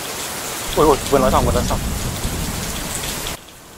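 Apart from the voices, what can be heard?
heavy rain falling outdoors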